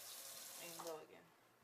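Water runs steadily from a kitchen tap into a cooking pot on top of seasoned chicken, a continuous close rushing hiss that shifts in tone briefly midway as the pot fills.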